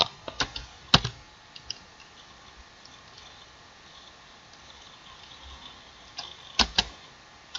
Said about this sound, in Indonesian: Sekarang kita akan ketik kodenya.